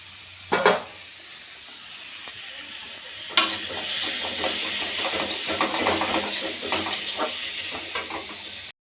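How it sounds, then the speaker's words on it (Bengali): Washed, cut leafy greens hit a hot pan with a sharp hiss, then keep up a steady bright sizzle with intermittent stirring clatter, close and moderately loud. "মা এবার শাকটা ভাজবে"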